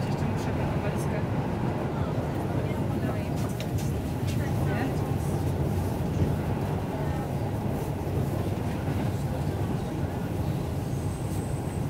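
A steady, loud rumble fills the cabin of a moving Polish IC Mamry intercity passenger train between Giżycko and Sterławki Małe, with a continuous low roar and faint clatter throughout.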